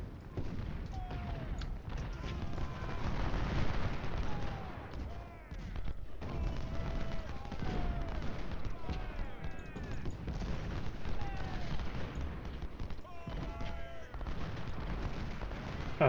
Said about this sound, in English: let's move the artillery to crack the fortifications over here